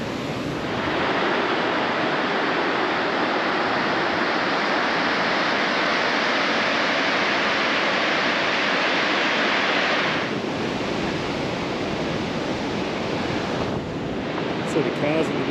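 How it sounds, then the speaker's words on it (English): Strong wind gusting across a campground lookout, a loud, steady rushing roar buffeting the microphone with little variation, easing slightly near the end. "it's a bit windy"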